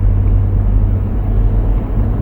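Lexus LX570 driving at about 30 km/h, a steady low engine and road rumble holding level throughout with no voices.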